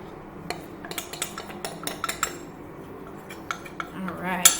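A metal spoon clinks and clatters against a mixing bowl in a home kitchen, with a string of light irregular taps over several seconds and a brighter knock near the end.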